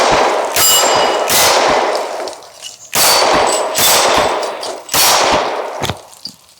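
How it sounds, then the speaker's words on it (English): Pistol practice shots from a Glock fitted with an RMR sight at a shooting range: three loud, sharp reports roughly two seconds apart, each ringing with a metallic clang and decaying echo, with faint extra pops between. "Give a little practice shots on what we got going on here."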